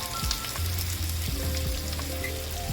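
Chopped spiny gourd (kartule) and asafoetida sauté in hot oil with a steady, close sizzle and crackle throughout, with occasional low thumps from stirring.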